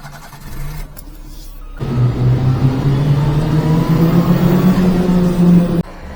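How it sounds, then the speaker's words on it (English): Micro van engine running close by, a steady idle that steps up at about two seconds into a sustained higher rev with a droning tone, then drops back abruptly near the end. "Idling pretty good now. Starting pretty good. Still not perfect. Much better though."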